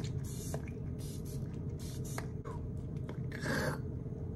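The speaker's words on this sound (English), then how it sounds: "I taste it every time I spray." Makeup setting spray mists onto a face in several short, close hissing bursts with brief pauses between them, while quiet room tone continues underneath.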